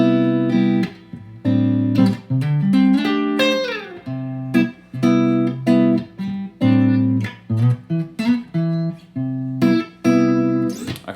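Guitar playing a simple arpeggio run spanning the fretboard, a steady stream of clear plucked notes rising and falling in even rhythm, close and alone without talking.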